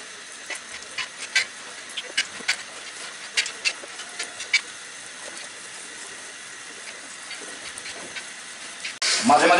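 Small round cauliflower pakora balls fry in hot oil with a soft steady hiss and scattered sharp crackles and pops, ending in a louder burst of sizzling.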